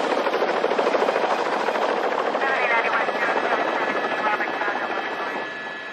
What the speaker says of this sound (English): The chopper searches near the suspect's abandoned car.